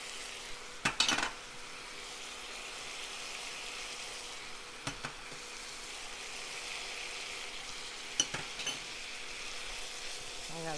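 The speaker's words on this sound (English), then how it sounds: "Now we're gonna stir around." Vegetables stir-fry in a pan for a chicken basil stir fry, a quiet steady sizzle broken by a few sharp clinks of a utensil against the pan.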